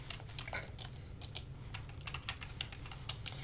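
Rapid computer keyboard typing in an irregular clatter of close, crisp keystrokes over a steady low hum, no talking.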